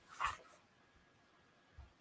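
A puppy gives a short, faint yip or whimper near the start, then a soft low sound follows a moment later against quiet background.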